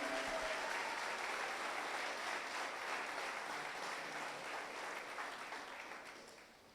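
Congregation applauding in a church service, a dense, sustained wash of clapping that stays steady and slowly fades toward the end.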